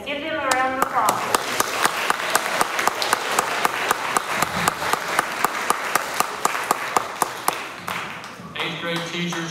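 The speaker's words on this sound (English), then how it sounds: "Give them a round of applause" An audience claps at a middle school awards ceremony, a steady patter of applause with sharp individual claps standing out, and a voice speaking briefly at the beginning and the end.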